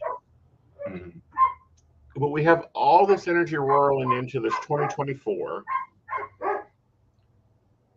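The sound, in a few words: dogs barking in the background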